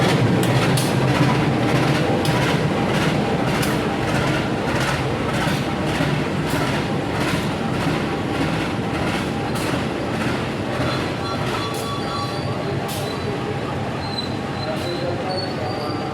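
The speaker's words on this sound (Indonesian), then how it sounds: "Lokomotifnya CC203 9512 untuk kereta api Serayu tujuan ke Purwokerto." A train hauled by a CC203 diesel locomotive rumbles past nearby with rhythmic clattering wheels on the rails and a steady engine drone, with a voice speaking faintly in the background.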